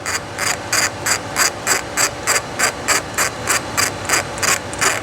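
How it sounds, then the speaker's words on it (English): A hand ratchet tightens 13mm bolts on a subframe brace under a 2015-24 Mustang: rapid, evenly spaced metallic clicking bursts, about fourteen strokes in five seconds, close and clear with no talking. "Snug that bolt. Tighten the 13mm bolts."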